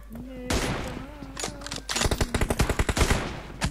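Rapid automatic gunfire from PUBG Mobile rattles in a dense, loud string of close shots after a brief earlier burst, with a voice talking over the start.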